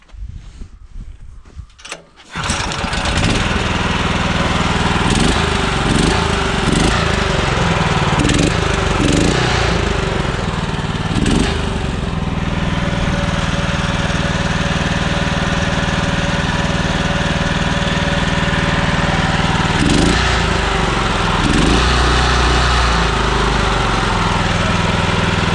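After a short quiet moment, the small engine of a homemade tractor helper, fitted with a throttle cable, fires up. It settles into a loud, steady, rattling run that lasts to the end.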